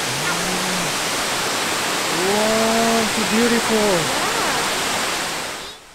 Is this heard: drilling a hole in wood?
no